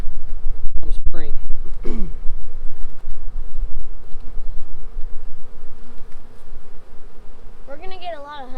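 Honeybees drone close and steadily around a small nucleus hive on a winter New Year's Day check, a continuous buzz with people's voices talking over it now and then.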